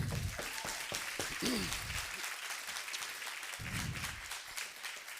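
Applause from a crowd at a men's group Thanksgiving dinner, moderate and fairly distant, with scattered claps and a few voices mixed in, lasting a few seconds.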